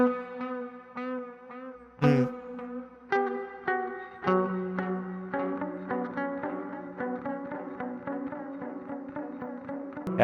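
A clean guitar through a Quad Cortex with ping pong delay plays plucked notes whose repeats bounce and pile up into a wet, shimmering wash of echoes, growing denser over ten seconds.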